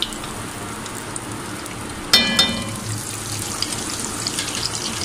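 Butter melts in a hot pan while cooking pav bhaji, giving a steady soft sizzle that flares louder about two seconds in, then settles into a continuous crackle with no talk.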